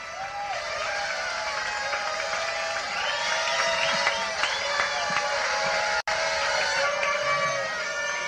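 A comedy show audience applauds and cheers on New Year's Eve 1983, a sustained loud wash of clapping with whoops on top, and a host's voice calling out over the crowd.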